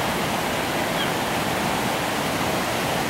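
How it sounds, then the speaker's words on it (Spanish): Steady broadband rush of a river flowing past, continuous and fairly loud with no pauses or voices. "Esto es río."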